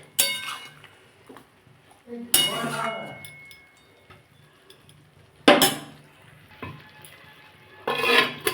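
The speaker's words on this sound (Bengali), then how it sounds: "আমি এবার চাপা দিয়ে দেবো আর চাপা দিয়ে দিলে এতেই সেদ্ধ হয়ে যাবে" A lid goes onto a pan of cooking greens with several metallic clinks and clatters, separated by quiet gaps, while a voice talks nearby.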